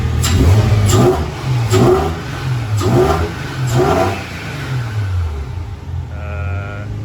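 A Mazda RX4 with a Barra engine swap revs repeatedly in short bursts through a makeshift throttle pedal, roughly once a second, then settles into a steady idle; close and loud.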